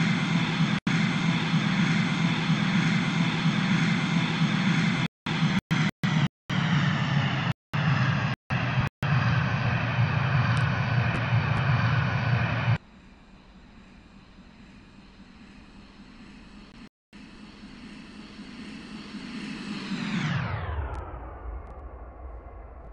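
Simulated airliner engines in the flight game Infinite Flight drone steadily on landing approach, a dense continuous hum broken by brief dropouts, then softening before swelling and winding down at the end.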